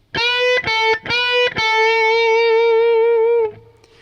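Distorted electric guitar picks a few quick notes, then bends up into a long sustained note that rings for about two seconds before stopping; no voices.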